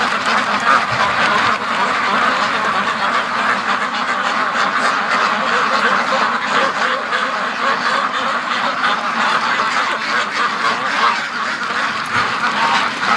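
A dense flock of free-range ducks quacks continuously, loud and close, many overlapping calls forming a steady chattering mass on a cold day.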